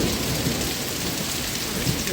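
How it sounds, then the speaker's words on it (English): Heavy thunderstorm rain pours down steadily with a low rumble of thunder beneath it, a dense, loud wash of sound with no voices. "Oh, thunder."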